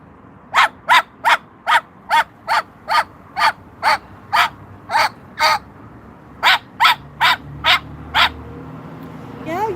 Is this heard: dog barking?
yes